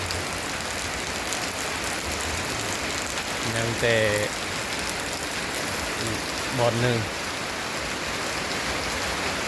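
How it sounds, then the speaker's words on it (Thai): Steady rain falls during a storm, a continuous wash of hiss that fills the whole clip, with a couple of brief voices speaking over it. "โอ้ตกฝนมาแล้ว"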